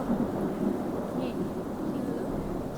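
A low, steady rumble of thunder during heavy rain, fairly faint and distant, holding evenly under a constant wash of rainfall noise.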